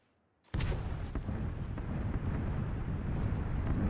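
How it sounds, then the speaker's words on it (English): An artillery barrage in the battle royale game PUBG, starting from silence with a sudden heavy boom that rolls into a sustained rumbling roar of distant blasts lasting several seconds. "Was that just the artillery, or was that something else as well?"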